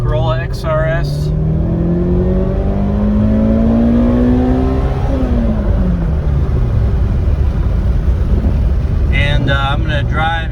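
A 2005 Toyota Corolla XRS is driven, heard from inside, with a steady engine drone and road roar as revs rise and shift; a voice speaks briefly at the start and near the end.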